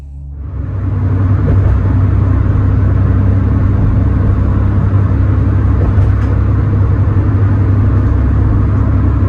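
Cargo van driving on the road, a loud, steady engine drone and road rumble rising in the first second or two and holding constant throughout, with no talking.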